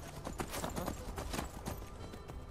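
Quiet, rhythmic clip-clop of horse hooves in Skyrim near a bandit camp, against a busy, noisy game soundscape, steady and fairly distant.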